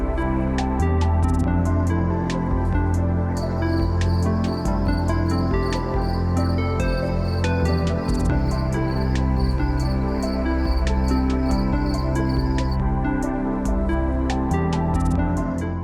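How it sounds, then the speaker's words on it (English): Loud crickets and cicadas play from a playlist outdoors in the sunshine while resin molds are filled. A dense, continuous insect drone runs throughout, with a shrill higher buzz joining for most of the middle stretch. "Listening to the playlist of loud crickets and even louder cicadas."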